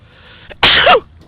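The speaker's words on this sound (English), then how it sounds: "Sorry, had to sneeze." A single loud, close sneeze from a person, a short sharp burst after a brief breathy intake, then quiet.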